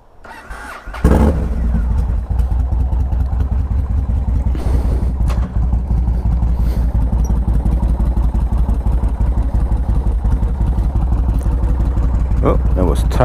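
Yamaha Warrior 1700 motorcycle cranking and firing up close by, then settling into a loud, lumpy V-twin idle with occasional blips of revving, a voice talking over it at times.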